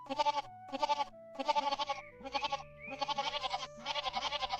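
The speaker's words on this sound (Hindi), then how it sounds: "और बकरी के बच्चे फिर शोर मचाना शुरू कर देते हैं।" Young goats bleat over and over in quick, wavering bursts, several calls overlapping with short pauses between, close and fairly loud.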